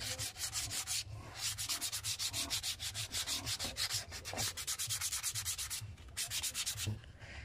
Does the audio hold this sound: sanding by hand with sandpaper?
yes